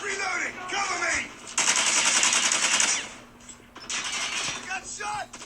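Rapid machine gun fire rattles in a video game, a dense sustained burst between stretches of mechanical clicks, with voices calling out during the gameplay.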